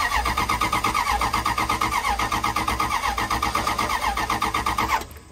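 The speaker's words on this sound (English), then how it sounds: "Let's grab the Noco and see if it'll fire up." A damaged Dodge truck engine cranks over rapidly on a Noco jump starter, a loud, steady rhythmic churning for about five seconds that cuts off abruptly without catching.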